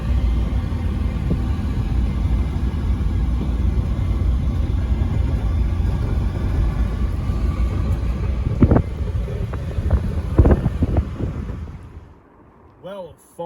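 A Holden VL Commodore rumbles low and steady from inside the cabin as it drives around the block, with a few sharp knocks and bumps late on before the engine noise drops away almost to silence.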